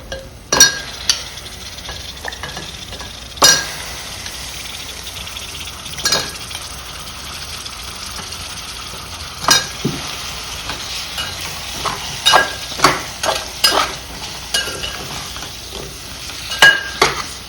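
Sweet potato pieces are stirred into fried onions in a pan for a sour soup, a soft sizzle broken by sharp spatula scrapes and clinks at irregular intervals, close and without talk.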